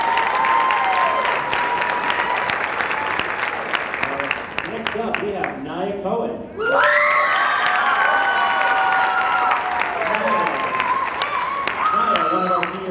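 A high school band concert audience applauds and cheers loudly, with whoops over the clapping; the noise briefly dips, then swells again as an announcer speaks over it.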